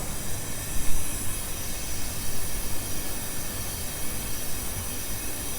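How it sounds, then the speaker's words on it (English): Steam is turned on to heat a whisky pot still, a loud, steady broadband hiss and roar that fills the space evenly with no break or voices. "Now with the still closed, we can turn the steam on to heat the still up."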